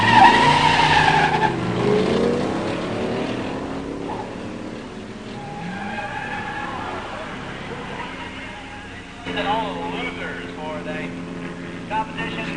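Drag race between a 1966 Pontiac GTO 389 tri-power four-speed and a 1969 Plymouth Barracuda 340 automatic, engines roaring and revving at a distance under a public-address announcer's talk, with rising and falling exhaust tones and a crowd-like wash.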